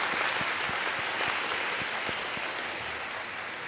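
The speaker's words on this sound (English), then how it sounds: "Please join me in giving our esteemed keynote speaker a big round of applause" Sustained applause from a university audience for a keynote speaker, an even wash of many hands clapping at a moderate distance with a few sharper individual claps, easing slightly toward the end.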